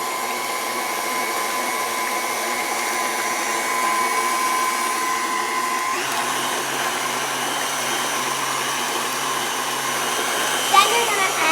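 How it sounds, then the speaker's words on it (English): Electric mixer beating butter, sugar, eggs and vanilla into cake batter, a steady high motor whine that runs continuously at even loudness, a brief knock near the end. "in an electric mixer, combine butter, sugar, eggs, and vanilla extract"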